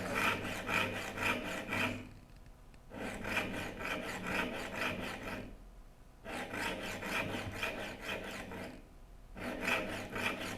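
A file rasps across the teeth of a rip saw in rhythmic bursts of quick strokes, with brief pauses between runs, close and fairly quiet with no voices.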